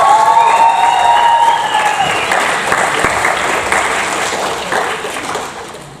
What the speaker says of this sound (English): So if you can just give her a bit of a cheer.